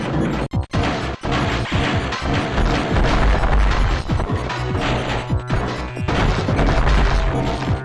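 Missiles firing and hitting in the Metroid Fusion game: a dense run of loud, sharp crashes and booming impacts, rapid and irregular, with heavy low thumps over several seconds.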